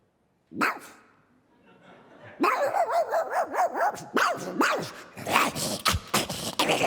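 A voice imitates a dog, giving a single sharp bark followed by a rapid run of close, loud barks and yips with short whimpering breaks.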